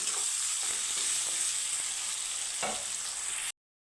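Sliced onion frying in hot oil for a katla fish curry, a steady bright sizzle with faint stirring scrapes, close and unbroken until it cuts off abruptly.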